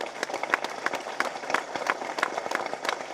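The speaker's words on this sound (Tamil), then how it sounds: "இப்போ இவங்களை ப்ளஸ் பண்ணுங்கள் நல்லா கை தட்டி." An audience at a film audio launch event claps in a lively burst, with many hands hitting in quick, uneven rhythm, close and fairly loud.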